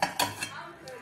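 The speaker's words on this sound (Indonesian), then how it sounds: "berikan piring di atasnya agar ada penekannya" A ceramic plate set down on top of a covered container of fermenting sticky rice tape, giving a few close clinks and knocks of dishware in the first half, then quiet.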